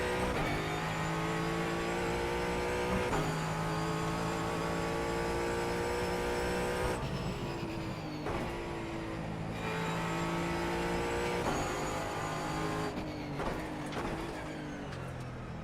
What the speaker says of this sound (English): I believe this is a multi-matic car as well, so it is a baby GT3 essentially.